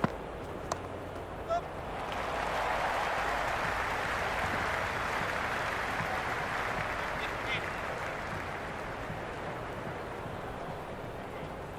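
Stadium crowd in the cricket video game Cricket 26, during an RCB vs SRH IPL match, roars in a broad, sustained wash of cheering that swells after about two seconds and holds steady to the end, with no talk over it.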